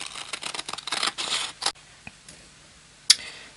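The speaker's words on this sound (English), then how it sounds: "get the scissors, and we will cut that shape" Scissors snip through frisket masking film over a pastel drawing, a quick run of close, dry cuts followed by quiet and a single sharp snip near the end.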